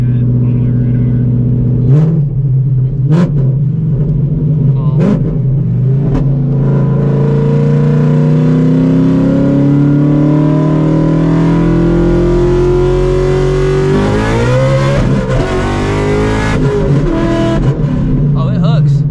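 An 800hp Shelby GT350 engine screams through hard acceleration pulls, its pitch climbing steadily before a shift and a renewed rising pull, loud and close inside the car, with voices talking over it.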